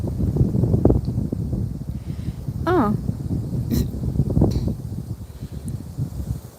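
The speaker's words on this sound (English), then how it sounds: "It's very windy." Wind gusts blow across the microphone outdoors while someone walks a dog, a steady low rushing roar that rises and falls, with a person talking and a brief exclamation over it.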